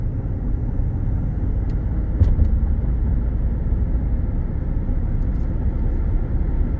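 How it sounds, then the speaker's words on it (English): Inside a 2017 Ford F-150 Lariat on a test drive, a steady low road and engine drone fills the cab, even and continuous, with a few faint clicks and no talking. "we're going on a quick test drive"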